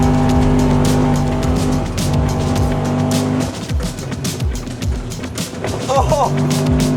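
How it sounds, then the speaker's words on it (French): A car revs hard while heating its tyres, engine roaring loudly throughout with tyre squeal and skidding noise building midway, close by, with a voice talking over it. "Là, on fait chauffer les pneus."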